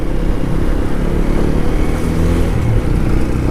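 A vehicle engine drones loud and close on a narrow mountain road in the hills, a steady rough motor rumble with road noise that holds without letup.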